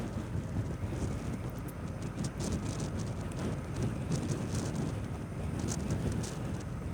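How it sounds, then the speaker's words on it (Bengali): Steady wind blowing across a bridge, a constant low rumbling buffet against the microphone with a continuous airy hiss and no voices. "ওয়াও, সুন্দর বাতাস আমাকে ধাক্কাচ্ছে শুধু।"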